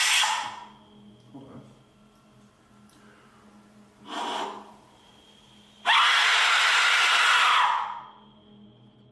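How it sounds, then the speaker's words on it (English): An Aztec death whistle gives a harsh, rushing, scream-like shriek lasting about two seconds, loud and alone, preceded by softer breathy puffs. "now it's time for a scream with an Aztec whistle"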